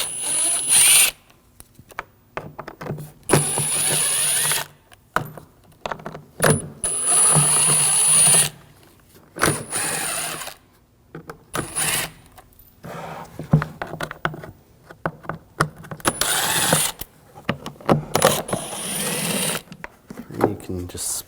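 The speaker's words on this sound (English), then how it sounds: "Now, all along the perimeter, we're going to take these screws out. Use a T25 socket." Whirring bursts of a power driver with a T25 socket backing out the perimeter airbox screws on a 2007-2013 BMW 328i 3.0L inline-six, short repeated runs separated by pauses, close, with someone talking between them.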